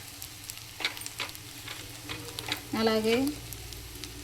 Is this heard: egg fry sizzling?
yes